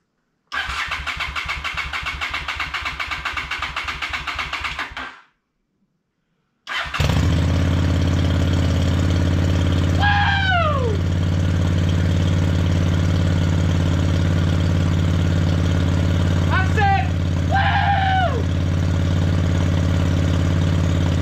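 A 2007 Honda Shadow VTX600CD motorcycle cranks and fires up, stops briefly, then restarts and settles into a steady, loud, close idle with a few revving blips.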